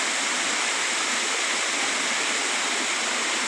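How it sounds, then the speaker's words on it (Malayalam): A small waterfall on a hillside stream pours in a steady, dense rush of falling water, close and continuous without a break, with no voices over it. "കൊച്ചു വെള്ളച്ചാട്ടത്തിൽ നിങ്ങളെ കാണിക്കാൻ വേണ്ടി വന്നേക്കണേ"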